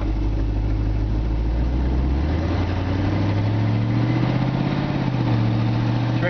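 A 1950 Ford F1 truck engine idles steadily and close by, fitted with a Chevy shifter, its low rumble continuous and loud throughout with a slight rise in pitch partway through, no voices.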